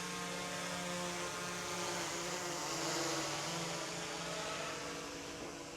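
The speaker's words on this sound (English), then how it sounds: "let's get this drone up in the air" A DJI Air 3S drone flies near a garage, its propellers producing a steady, loud, insect-like buzz with layered whining tones that hold constant throughout without speech.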